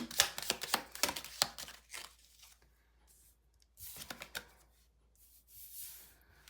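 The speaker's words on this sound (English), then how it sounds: "I'm usually like shuffling this deck in 2 times because it has like 100 and more cards" A large tarot deck of over a hundred cards shuffled in two batches, with bursts of rapid, close riffling and soft card flicks broken by quiet pauses and occasional handling sounds.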